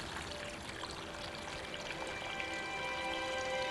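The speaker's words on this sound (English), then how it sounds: "It's just spontaneously bubbling to the surface." Faint continuous bubbling and gurgling of spring water welling up at the source of the River Ythan in Scotland, a soft, even outdoor trickle without voices.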